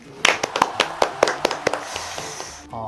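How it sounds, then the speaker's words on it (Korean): Around a dozen sharp hand claps sound in a quick, fairly even rhythm, close and loud, followed by a brief low murmur. "박수 한번 치고 시작할까요?"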